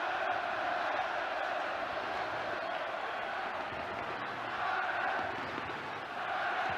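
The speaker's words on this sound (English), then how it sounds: "The crowd get behind England at last." A football stadium crowd at a Euro 1992 qualifier between England and Ireland roars steadily behind England, a dense, sustained chant and cheer heard from a distance with no breaks.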